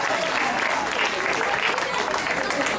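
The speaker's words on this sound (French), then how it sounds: "est-ce qu'on peut applaudir très fort pour la femme" A concert audience at an arena applauds in a dense, continuous roar of clapping that holds at full strength from start to finish.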